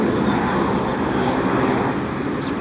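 Gulfstream business jet at Dulles airport on a rainy day, heard as a steady, loud, broadband roar of jet engine noise that holds evenly throughout without pause.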